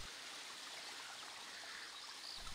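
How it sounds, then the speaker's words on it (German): A small waterfall and stream near Wormeldingen, Luxembourg, in the Riesling wine region, produce a continuous soft hiss of rushing water, steady and fairly faint throughout. "Am Ende das Ziel,"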